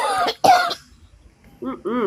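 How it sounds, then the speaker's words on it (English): A person coughs in a couple of rough bursts near the start, followed by a short quiet pause and then brief voiced sounds, close and moderately loud. "Why are you coughing like that?"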